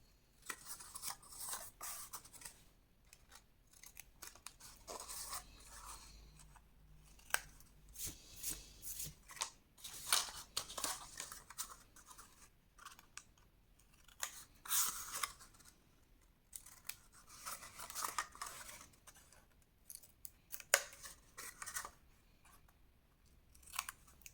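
Scissors snip through folded paper of a scrapbook pop-up album's accordion fold, a run of quiet, irregular crisp cuts and paper rustles, close up, with no talking.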